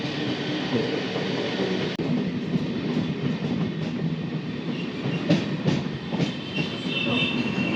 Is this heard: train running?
yes